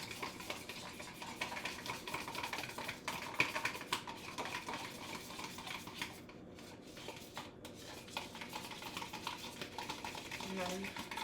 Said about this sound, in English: And then we'll just mix this whole thing up.